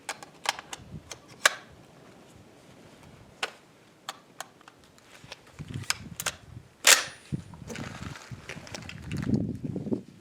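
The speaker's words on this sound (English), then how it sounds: "Shoot her out. Last shot hold open." A Norinco T97 Gen III pistol fires a string of sharp, irregularly spaced shots at an outdoor range, with brief pauses between groups and some rustling handling noise near the end.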